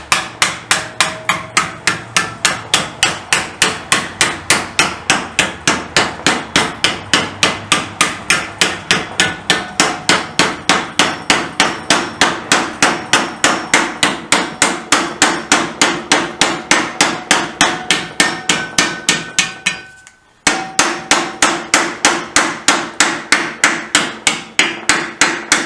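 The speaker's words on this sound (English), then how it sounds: "I've got a softish hammer, and because this is being annealed, it should bend up quite easily." A softish hammer bends an annealed metal part for an Enfield 350 trials motorcycle, striking in a fast, steady run of loud, close metallic blows with one brief pause before the rhythm resumes.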